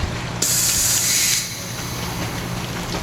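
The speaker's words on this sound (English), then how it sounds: "The diver can inflate the BC by using the inflation valve, which is here" Air hisses sharply from a scuba buoyancy compensator's inflation valve in one loud, steady burst lasting about a second, then cuts off to a quiet background.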